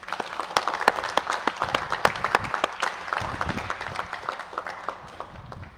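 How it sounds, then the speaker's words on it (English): An indoor audience at a Combined Federal Campaign award ceremony applauds the award winners, producing dense, fairly loud clapping that holds steady and then thins out toward the end. "Please give one last round of applause to all award winners."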